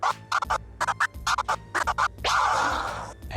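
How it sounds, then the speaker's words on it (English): Crab scratch on a DJ turntable with the crossfader closed: rapid stuttering bursts of scratched record sound in quick clusters, followed by a longer sustained scratch, loud and close. "So when you're learning the crab scratch, it's going to sound like this."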